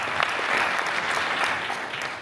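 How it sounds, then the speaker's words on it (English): An audience at a motivational talk bursts into a round of applause, many hands clapping in a dense, even patter that stays full and lively before easing slightly at the end, with no talking over it. "Give them a round of applause."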